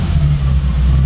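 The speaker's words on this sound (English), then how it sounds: "Rev it a little bit." A car engine on a cold start revs steadily for about a second, a loud, close, low rumble with strong harmonics and no talking over it.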